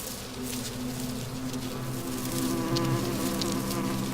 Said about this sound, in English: All bees are dedicated to the colony.